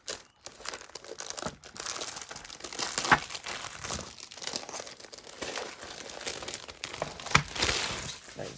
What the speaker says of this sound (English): let me just unwrap it.